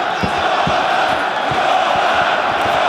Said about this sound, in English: You hear the crowd now urging on their living legend, Fedor Emelianenko.